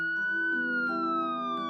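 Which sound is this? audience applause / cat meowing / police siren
police siren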